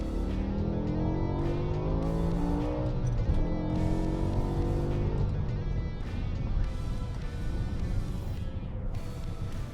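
BMW E60 M5 with its V10 engine running hard and revving, a loud, continuous engine roar with rising and falling pitch sweeps as it accelerates, close and dominant throughout.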